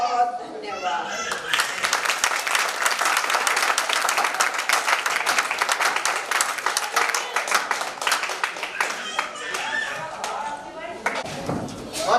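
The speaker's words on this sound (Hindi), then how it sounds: "एक बार इनके स्वागत में फिर जोरदार तालियां" Sustained applause from an audience at a Louis Braille birth anniversary ceremony, dense clapping from many hands filling the room for several seconds, with a voice briefly heard toward the end.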